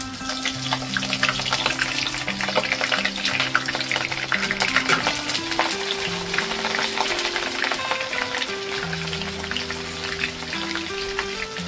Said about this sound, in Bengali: মিডিয়াম হিটে তেল গরম করে এই পপকর্নগুলো ভেজে নিতে হবে